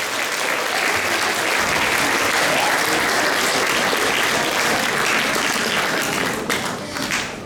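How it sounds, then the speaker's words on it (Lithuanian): Dense, sustained applause from a large audience at an art school graduation certificate ceremony in Šilutė, honouring the orchestra, steady and loud throughout before easing slightly in the last second. "Tai palydime vis tiek gausiais aplodismentais."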